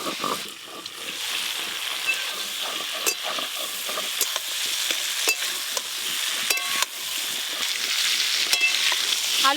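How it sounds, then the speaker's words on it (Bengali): Potato and cauliflower pieces frying in hot oil, a close crackling sizzle with frequent sharp scrapes and clinks of a spatula stirring, no talk. "আলু ফুলকপি ভালো করে ভাজা হয়ে গেছে"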